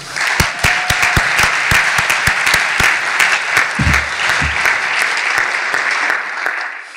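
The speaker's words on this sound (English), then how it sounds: "I'd like to hear a great round of applause for the audience." Sustained applause from an audience in a large hall at an activist event, dense steady clapping filling the whole stretch at even loudness with no voices over it.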